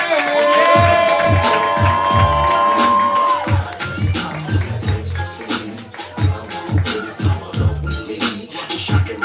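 A crowd at a Houston poetry slam whoops, cheers and claps loudly as an emcee's voice and music carry over the noise, with rhythmic beats and shouts continuing throughout.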